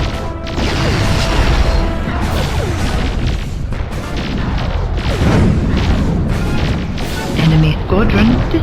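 Heavy explosions and crashing impacts fill a space battle in Nexus: The Jupiter Incident as an enemy squadron is wiped out, loud and unbroken, with mechanical clatter and a few higher tonal blips near the end.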